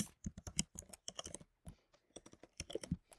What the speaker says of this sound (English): I might be typing fast